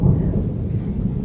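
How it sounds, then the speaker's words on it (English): Low rumbling thunder rolls over continuing rain on a veranda, a loud deep grumble that holds steady without a sharp crack, with no voices. "there's thunder right now because it's still raining"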